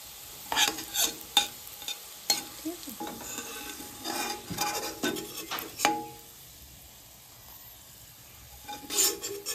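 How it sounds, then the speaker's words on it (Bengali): Peeled garlic fries in oil in a pan, a soft sizzle broken by repeated scraping and clanks of a spatula stirring against the metal, which fall quiet midway before a final stir. "তারপর একটি বড় সাইজের ছাড়িয়ে রাখা রসুন ভালোভাবে ভেজে নিতে হবে।"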